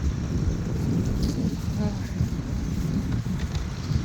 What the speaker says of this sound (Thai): วันนี้ลมแรงครับลมแรงลมมันตีเข้ามานี่ครับ ลมมันตีเข้ามาใต้สะพานนี่